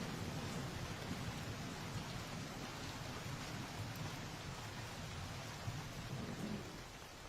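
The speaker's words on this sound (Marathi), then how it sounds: "मेघालय राज्यालाही मुसळधार पावसानं झोडपलंय" Heavy monsoon rain in Meghalaya, India, pouring as a dense, steady roar that fills the scene without a break, easing only slightly near the end; no voices.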